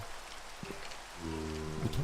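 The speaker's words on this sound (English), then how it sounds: "it's kind of hard to hear with the rain" Steady rain falls in a Minecraft world, a continuous hiss of drops that stays level throughout, with a low droning game tone rising beneath it partway through.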